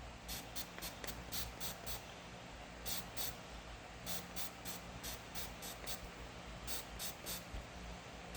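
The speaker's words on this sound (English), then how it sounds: "we'll spray a little of this in there" Rhythmic bursts of aerosol lubricant sprayed into a Leatherman multitool, several short hissing pulses in quick clusters over a steady low background hum, close by.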